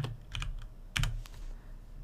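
Fingers type briefly on a computer keyboard, a few quick, close key clicks in two short bursts, quiet and with no talking.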